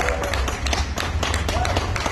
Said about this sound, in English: you really should give yourself a round of applause for turning up